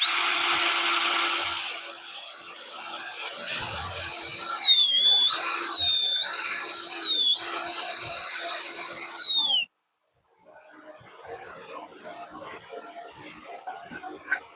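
A whining electric drill runs steadily for several seconds drilling pilot holes in scrap wood, its pitch dipping briefly as it bites, then stops; faint rustling follows.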